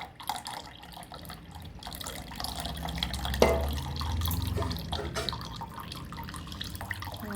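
Coconut milk being strained for tender coconut payasam, a soft running liquid sound with faint drips, steady and close, with a brief louder splash partway through.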